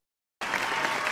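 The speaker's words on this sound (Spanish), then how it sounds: "Bravo, clap." After a brief silence, a burst of crowd applause starts abruptly and continues steadily, dense and close, during an online Zoom class.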